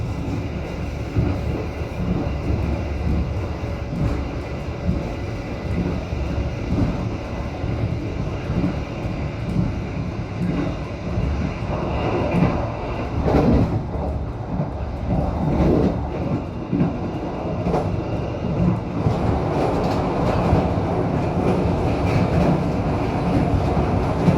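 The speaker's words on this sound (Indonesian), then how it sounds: "barusan tadi kereta api Argo Bromo Anggrek melintas langsung stasiun Cepu" The Argo Bromo Anggrek express train passes straight through Cepu station without stopping, a loud, continuous rumble with rhythmic wheel clatter building over about twenty-four seconds.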